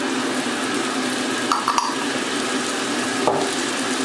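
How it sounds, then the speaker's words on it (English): Steady, dense hiss of chopped garlic frying in a hot pan, with a few brief clinks of a utensil partway through. "Turn it down because you can see it's already sizzling."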